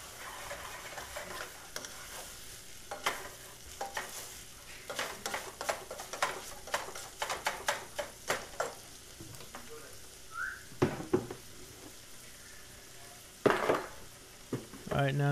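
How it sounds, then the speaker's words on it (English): Raw meat fries in a pan for biscuits and gravy, with a soft steady sizzle beneath repeated scraping and clinking of a utensil against the pan, irregular and close. "I just get it all cleaned out and then I continue frying it"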